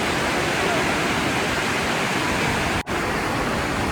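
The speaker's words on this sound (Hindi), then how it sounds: "ये अलकनंदा नदी" The Alaknanda river at Badrinath roars in a dense, loud, continuous rush of whitewater that fills the whole scene, with one brief dropout near the end.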